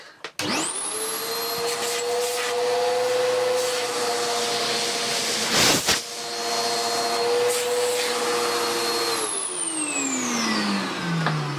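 Dirt Devil WDD6110 vacuum cleaner after refurbishment, an 1100-watt machine that spins up with a rising whine, then runs loud and steady with a high motor tone and a brief bump midway before winding down.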